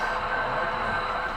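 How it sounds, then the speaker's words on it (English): A model Conrail train runs along its track at a train show, giving a steady close rolling rumble with a bright hum above it and no voices. "here comes the Conrail train."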